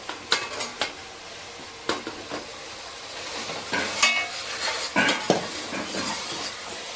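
Bone-in meat being sautéed in a pot for a curry, a soft steady sizzle under repeated clinks and scrapes of a spoon stirring against the metal pot.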